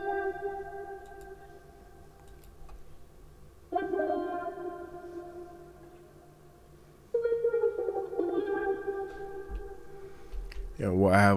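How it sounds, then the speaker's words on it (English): A wah guitar melody through a delay effect plays sustained, sweeping notes in three phrases, each decaying into echoing tails, followed by a brief louder burst at the end. "Now next is a staple in this melody, which is the wah guitar."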